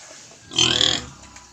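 A pet pig on a farm gives a single short squealing grunt, fairly close and moderately loud, rising out of quiet surroundings and fading within half a second.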